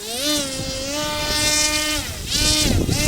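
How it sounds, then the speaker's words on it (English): The electric motor and propeller of a HobbyKing Skipper RC plane whine loudly up close as it taxis on short grass, a high buzzing tone that holds, dips briefly and then rises again. "I'm just going to taxi around the grass here just a little bit, show you how that works quick"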